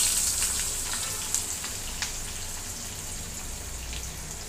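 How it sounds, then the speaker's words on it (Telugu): Onions frying in about three spoons of hot oil with mustard and cumin seeds, a steady close sizzle with a few faint pops and crackles, no talking. "ఆవాలు చిటపటమన్న తర్వాత ఉల్లిపాయలు వేసేసుకుందామండి."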